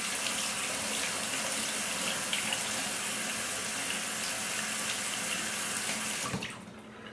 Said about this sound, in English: I've rinsed all of my brushes, and I've shook them out